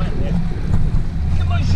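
Heavy wind buffeting the microphone during a group road cycling ride on Bethel Road, a loud low roar that holds throughout with a voice faintly under it.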